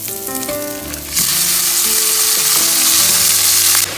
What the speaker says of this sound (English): I'm starting with some garlic in here in a pan